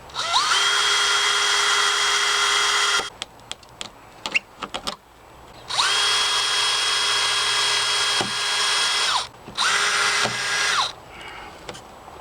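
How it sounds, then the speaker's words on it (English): Power drill boring into flexible plastic drain pipe for raised allotment beds: two long whining runs at steady pitch, separated by short clicks and stuttering bursts, then a final shorter run, close and loud. "Because it's flexible, the drill is struggling to grip it"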